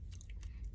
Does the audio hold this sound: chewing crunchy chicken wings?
yes